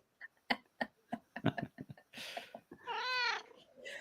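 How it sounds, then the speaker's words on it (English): A black cat meows once, a drawn-out, clear cry rising out of the background, with people talking around it in a room. "speaking of black cats, here is Nancy"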